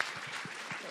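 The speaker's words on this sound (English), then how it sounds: "Round of applause from the health and safety conscious audience." Brief, quiet audience applause at a comedy show at the Edinburgh Fringe, scattered claps over a soft crowd wash.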